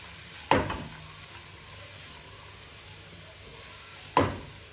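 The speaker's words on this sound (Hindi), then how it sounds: "अब हम इसमें ये सारी सब्जियां डाल देंगे और इनको मिक्स करेंगे" Vegetables for veg chowmein sizzle in a pan over high flame, a steady frying hiss broken by two sharp clanks of a utensil against the pan, with no talking.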